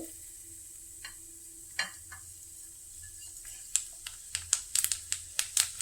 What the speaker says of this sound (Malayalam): താളിക്കാനായിട്ട് ഒരു പാനിൽ വെളിച്ചെണ്ണ ഒഴിച്ചിട്ടുണ്ട്. അതിലേക്ക് നമുക്ക് കടുക് ചേർത്ത് കൊടുക്കാം.